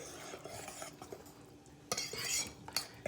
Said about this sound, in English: So my whisk was dirty, but I did find this hand mixer attachment. I think it'll work just fine. And we're just going to mix this all up.